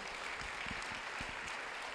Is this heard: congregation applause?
yes